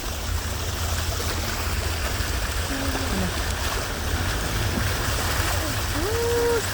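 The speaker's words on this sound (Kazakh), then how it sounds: "Ал біздер міне мостқа осылай суды кешіп өтіп жатырмыз." People wade through floodwater toward a bridge during spring flooding on the Zhaiyk river near Atyrau, a continuous loud rush and sloshing of water filling the whole clip, with faint voices in the background.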